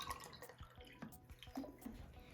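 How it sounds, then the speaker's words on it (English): Water poured into a glass jar for a tooth decay experiment with eggs, heard as light splashing and dripping trickles, close and fairly quiet. "Now pour water into the next jar."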